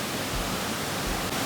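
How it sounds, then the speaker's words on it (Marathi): A small waterfall on an outing near Panshet, a steady broadband rush of falling water that fills the whole moment evenly, close by and continuous with no voices. "आहे ना वर वॉटरफॉल"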